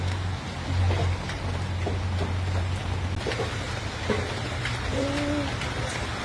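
Heavy rain falls in a bamboo grove, a thick unbroken hiss with occasional louder drops spattering nearby, steady throughout with a faint low rumble beneath and no speech.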